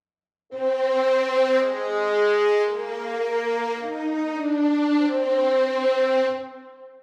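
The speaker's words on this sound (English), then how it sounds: "Sordino is an articulation that involves all the players in an orchestral group like violins playing with a special" A soft, sustained string section plays a slow passage muted with sordino, veiled and warm with dulled overtones, holding long chords that shift gently before fading out.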